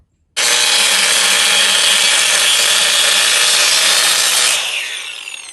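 Steady, loud power-tool cutting to trim a bumper for a second-generation Toyota Tacoma, one continuous grinding rasp lasting several seconds before it winds down and fades, with no talking.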